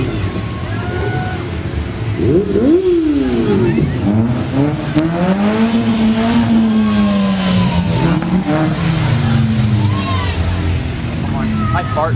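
A car engine revs hard at a county fair parade in Umatilla County, its pitch sweeping up and down in repeated loud surges close by, with crowd voices talking over it.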